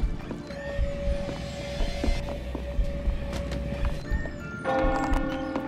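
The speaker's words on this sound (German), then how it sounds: "Ah ja, das war die Glocke" Steady, sustained bell tone from The Sexy Brutale, ringing throughout under layered game ambience with soft clip-clop-like taps, moderately loud and continuous.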